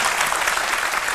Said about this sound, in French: Alors, Monsieur Capé, qu'on applaudit très fort, Capé Christian